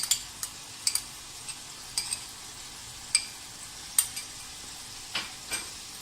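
Chicken drumsticks being stirred with soy sauce and tomato ketchup in a pan, giving a quiet scraping and sizzling bed punctuated by a dozen sharp, irregular clinks and scrapes of the utensil against the pan, with no talk.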